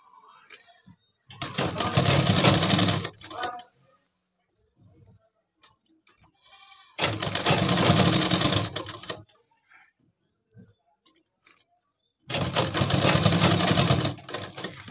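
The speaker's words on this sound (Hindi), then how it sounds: "अब जैसे उस तरफ मैंने टांका लगाया था उसी तरह इस पर भी आधा इंच नीचे इस लूप्स पर आपको ये पक्का टांका करके लगा लेना है।" A sewing machine stitches belt loops onto a pair of trousers, running in three loud, steady bursts of about two seconds each, separated by quiet pauses with faint handling sounds.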